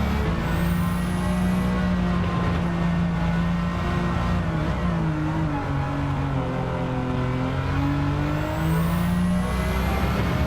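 A Nissan R32 GT-R accelerates in Gran Turismo 7, its engine note sweeping up through the gears with repeated rising revs and a shift midway, loud and sustained with no talk.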